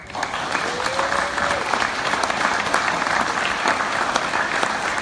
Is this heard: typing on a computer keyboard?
no